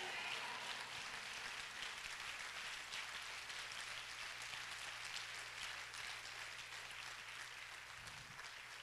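At a Word and Power church conference, a congregation claps hard in praise, a continuous, even rush of many hands that sounds faint and distant, with a brief low thump near the end.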